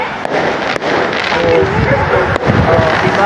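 Fireworks bursting with sharp booms and crackling, loud and dense, heard from a cableway ride in Harissa with a few isolated louder pops standing out against a continuous roar.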